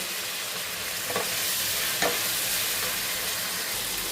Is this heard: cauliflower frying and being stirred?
yes